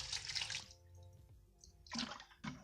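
Dirty car-wash water splashes and pours out of a bucket in a few quick gushes, with a short trickling pause between the bursts.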